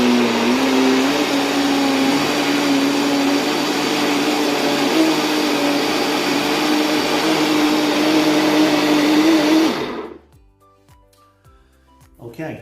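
An electric mixer whizzes a condensed milk mixture for blueberry cheesecake ice cream, a loud, steady motor whine held for about ten seconds before cutting off into near silence with faint clinks.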